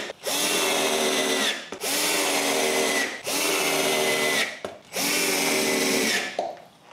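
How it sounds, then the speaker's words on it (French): A power drill bores screw holes through a wooden plate that will be fastened to a box: four loud, close, sustained whirring bursts separated by brief pauses, with no talking. "je dois percer des trous pour les vis qui vont retenir la plaque à la boîte"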